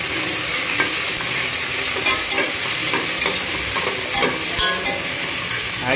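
Ginger garlic paste sizzling and frying with golden onions for a simple chicken sambhar, a continuous crackling hiss with scattered stirring scrapes, close and steady throughout.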